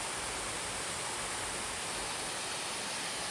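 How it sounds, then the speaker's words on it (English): A steady broadband rush of water from a waterfall at a canal basin, loud and continuous with no variation and no voices. "There's a waterfall we get to go through."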